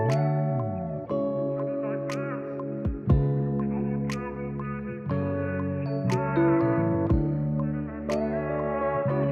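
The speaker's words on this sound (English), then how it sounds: "we need to filter it, delay, reverb, and then we're also using a little bit of phase" Processed vocal tones drift over a tonal loop, smeared with echoing delay, reverb tails and a swirling phaser-like shimmer, with sharp plucked accents recurring.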